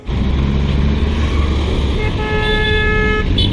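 Car horns toot and blare over rumbling city traffic in Colombo, Sri Lanka, one horn holding a long steady note near the end amid busy road noise.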